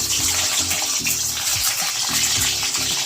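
Eggs hit hot oil and fry with a loud, dense, continuous hiss and crackle close by, resembling rushing water.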